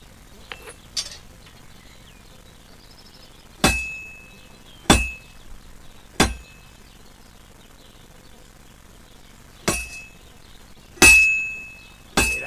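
A blacksmith's hammer strikes an anvil in Kingdom Come Deliverance 2 with sharp metallic clangs, seven separate blows at an irregular pace, each ringing out and decaying against a quiet backdrop.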